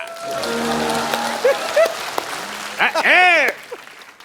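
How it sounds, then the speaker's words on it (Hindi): Studio audience applause on a television comedy talk show, a steady wash of clapping with voices and laughter over it and whoops rising near the end. "तालियां रिदम में होनी चाहिए"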